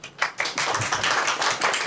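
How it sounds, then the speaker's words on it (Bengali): A small group claps for a teacher, a brief burst of dense, close hand claps that runs steadily for a couple of seconds. "স্যারের জন্য হাততালি"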